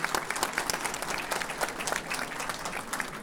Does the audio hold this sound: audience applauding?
yes